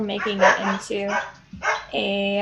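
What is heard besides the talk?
dogs barking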